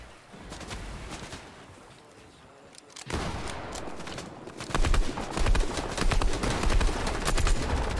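Gunfire in the video game Fortnite, a flurry of rapid shots with sharp repeated transients, quieter at first and then louder and denser after a few seconds, with no talking.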